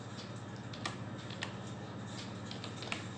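Fingers tap on a computer keyboard, a soft run of light clicking keystrokes over a steady background hum, faint and alone.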